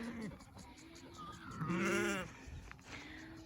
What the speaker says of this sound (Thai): ช่วยกันย้ายแม่แกะกับลูกแกะค่ะ